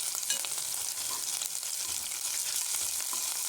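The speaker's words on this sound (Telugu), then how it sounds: "ఆనియన్స్ కూడా బాగా వేగిపోయాయి." Onions sizzling and frying in a pan for veg manchurian, a steady close crackle of hot oil with occasional stirring scrapes, no voices.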